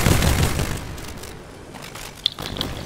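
A bomb goes off in a video game with a loud, broad blast right at the start, then decays into a rumbling wash, followed by a sharp crack and scattered smaller bursts.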